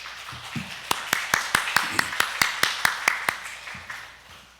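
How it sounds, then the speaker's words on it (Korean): Welcoming applause from a church congregation for the pastor at a Sunday service, heard as a steady run of about a dozen sharp, evenly spaced claps after a brief murmur of voices, fading out at the end. "우리 한 목사님 나올 때 우리 환영의 박수 부탁합니다."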